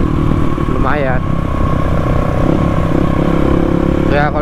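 Kawasaki KLX 250 dual-sport motorcycle engine running steadily and loud close by, with someone talking over it.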